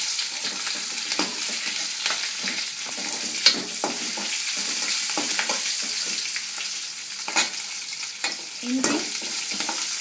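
Green chillies sizzle and spit in hot oil in a pan while making urad dal chutney, a steady frying hiss with scattered pops and stirring scrapes, close and continuous with no talk.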